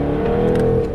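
A Jaguar F-Type SVR engine revs in a loud, steady, close growl that holds a sustained pitch through the brief moment, with no speech over it.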